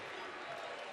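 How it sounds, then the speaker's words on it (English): Steady crowd applause filling a college basketball arena for seniors in their final home game, broad and continuous throughout. "the seniors getting rounds of applause in their final home game of the season"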